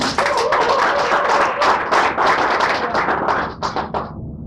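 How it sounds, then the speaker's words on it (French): An audience at a French book-signing conference applauds loudly and steadily, a dense wash of clapping that tapers off near the end. "Sous vos acclamations, madame"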